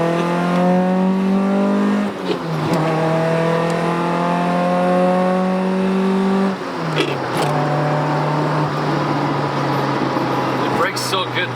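Honda Civic EJ1 on coilovers pushed hard through corners, its engine droning loud and steady with pitch rising and falling as it shifts and accelerates, people speaking over the engine noise inside the car.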